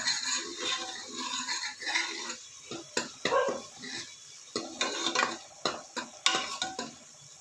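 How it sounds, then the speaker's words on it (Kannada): Onion and turmeric sautéing in oil for a fish sambar, with a spoon stirring and scraping the pan in close, uneven strokes over a soft sizzle. "ಅರಿಶಿನ ಈರುಳ್ಳಿ ಎರಡನ್ನೂ ಎಣ್ಣೆ ಜೊತೆ ನೀಟಾಗಿ ಬಾಡಿಸ್ಕೊಳ್ಳೋಣ"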